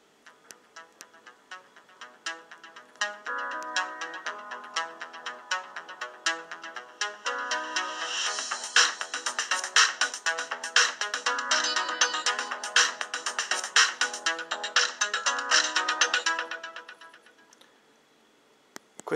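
Retro ringtones from a Nokia Asha 302 candy-bar mobile phone play loud and alone, bright electronic melodies with rapid tick-like note onsets that run continuously before cutting off near the end.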